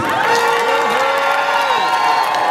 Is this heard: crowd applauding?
yes